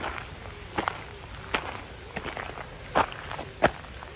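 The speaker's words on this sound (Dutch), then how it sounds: "Loop nog even daar langs de jachthaven een rondje." Footsteps walk along a marina by a large lake, a few distinct steps spaced irregularly and heard fairly close against quiet outdoor background, with no talking.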